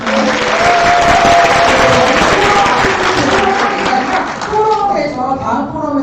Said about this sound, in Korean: 여러분이 한번 다시 동의하시면 박수해 주시면